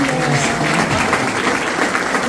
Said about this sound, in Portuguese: Quero convidar você a aplaudir o irmão que veio